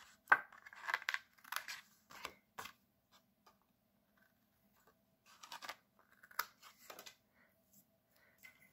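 Paper being cut with a trimmer or scissors for a stamped greeting card makes faint, close crisp snips and slicing rasps in short bursts, separated by quiet pauses.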